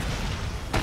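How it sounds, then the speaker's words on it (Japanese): A rocket launcher shot explodes at an entrance in the Resident Evil 4 remake on hardcore mode, on the island, as one short, loud, broad boom near the end after a low rumbling background. "この入り口のところで爆発させれば"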